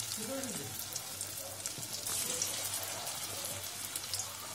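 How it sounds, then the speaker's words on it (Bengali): Coated paneer pieces frying in hot oil, a soft steady crackle and sizzle running throughout at moderate level, with faint background noise and no clear talk over it. "প্রত্যেকটা পনির এক এক করে ভাজবে"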